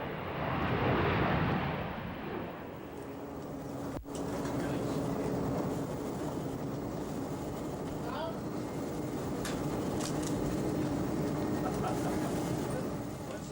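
A NASA KC-135 airplane drones in flight, a loud steady broadband engine roar with a constant low hum filling the cabin throughout, voices faintly mixed under the noise.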